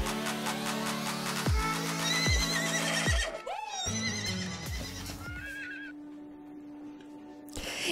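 Horses in the video game Star Stable neigh and whinny several times in clear, loud calls, with game music and hoof clip-clop sounds around them and no talking.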